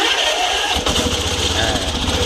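The small engine of a KORITZ crop sprayer in a rice field sputters and catches, then runs steadily at a loud, close idle with a rough, buzzing drone.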